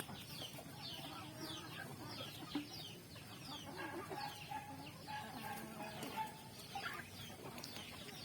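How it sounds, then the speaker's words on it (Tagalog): Native chickens cluck and murmur steadily while drinking water, with a soft, dense chorus of overlapping calls and occasional sharper squawks from a small flock close by. "umiinom na yung mga alaga nating mga manok."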